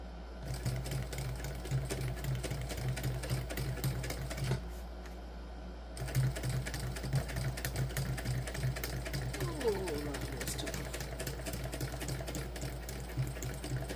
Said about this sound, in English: And we'll top stitch yet again.